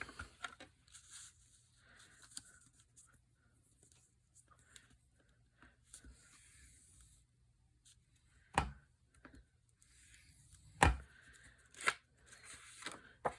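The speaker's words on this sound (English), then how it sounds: "I'm going to take panel A, and I'm going to score it along the dark brown line" A paper panel being scored along a line with a tool, faint scraping and soft rustling strokes close by, punctuated by a few sharper taps and crinkles, quiet with low background hum.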